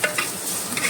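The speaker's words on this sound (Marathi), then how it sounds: "सो फ्रेंड्स, एक आतां बरें भाजून घेता." Frying in a pan for a Goan curry, a close, steady sizzle with quick scraping stirs over a brief moment, with no talking.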